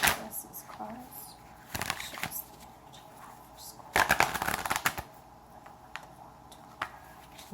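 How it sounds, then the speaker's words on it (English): Tarot cards are shuffled by hand in several quick, papery bursts of riffling and flicking, close and fairly quiet, with pauses between the bursts. "now that you're with me, I'd like to shuffle some more"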